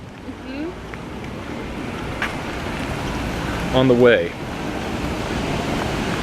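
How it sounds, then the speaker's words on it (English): A waterfall beside a park path gives off a steady, broad rushing roar, constant and moderately loud. Someone speaks briefly partway through. "Oh, I thought that was the rain coming. It's a waterfall."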